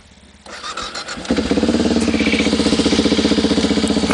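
A motorcycle in Norway cranks briefly, catches and fires up, settling into a loud, close, steady idle with a rapid even thump.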